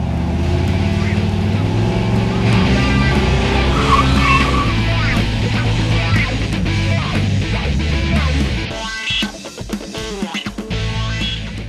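A car engine with an MSD 6AL-2 ignition box is held on its two-step rev limiter at 4,000 RPM, giving a loud, steady crackling roar. Near the end it breaks into choppy popping bursts.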